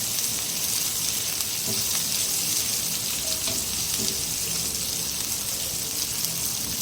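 Onion and green chillies sauté in a kadai, giving a steady, even sizzle with faint crackles and no pauses from start to finish.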